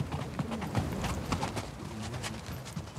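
Horse hooves clip-clop in a steady, fairly close rhythm on a hard surface in rural Italy, with faint background noise throughout and no talking.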